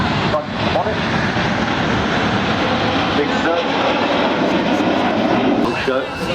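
Military jet roaring past at a 1999 Biggin Hill air show, a loud continuous broadband engine rush under a commentator's voice throughout.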